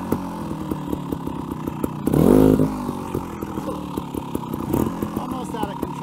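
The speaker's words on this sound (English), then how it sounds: "I'd use first gear, throttle and the clutch. Swing the bike around." A trials motorcycle idles and putters in first gear, then gives one brief throttle rev with clutch work as it swings around in a tight U-turn, heard close up.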